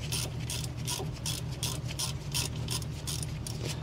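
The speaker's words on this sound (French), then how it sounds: "on va prendre une clé BTR donc de 7 et on va venir desserrer donc la vis." A 7 mm hex key loosens a screw during a brake disc and pad change on a Fiat 500, giving a steady run of rapid, evenly spaced ratcheting clicks up close, with no talking.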